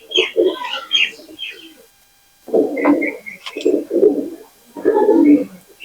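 Pakistani pigeons coo in close, throaty bursts, with a few soft chirps between the phrases and a short quiet gap partway through.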